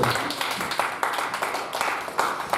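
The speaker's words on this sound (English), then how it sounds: "Clap your hands and celebrate." A congregation at a church service claps hands in loose, irregular bursts, fairly close and lively, with a faint voice underneath.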